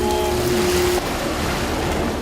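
Strong wind and churning waves are whipped up to mimic a rescue helicopter's rotor wash during sea survival training, a continuous loud roar of wind noise and surf with no voices.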